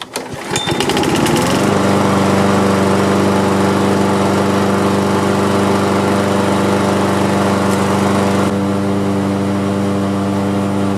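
A mower engine starts with a few uneven sputters, then settles into a loud, steady running drone that holds for several seconds without any voices.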